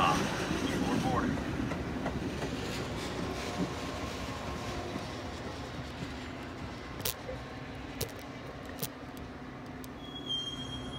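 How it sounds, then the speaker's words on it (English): A commuter train pulls into a station on the LaGrange Road line, a steady rumble of rolling railcars with faint wheel squeal and a few sharp clicks, heard up close with a voice announcement over it. "behind the yellow line until the train comes to a complete stop"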